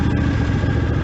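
A small 22 horsepower tractor engine idles close by with a steady, rough, low rumble, loud and continuous through the short stretch.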